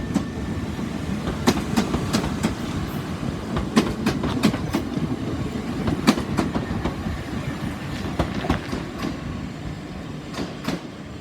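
Class 377 electric passenger train running through St Denys station on the South Western Main Line, a loud, close, continuous rumble with rhythmic clickety-clack of wheels over rail joints for the full pass, no voices.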